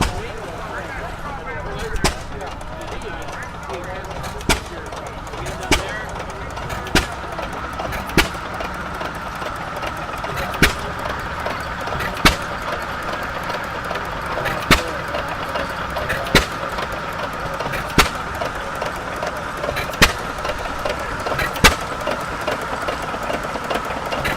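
An engine-driven saw rig with a big flywheel runs at a heritage days show in Burtrum, Minnesota: a steady mid-pitched drone punctuated by regular sharp exhaust pops about once a second, with a person talking over it.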